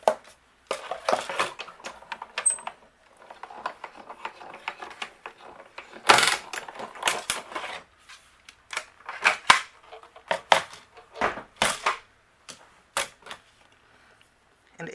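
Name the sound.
die cut machine pressing card stock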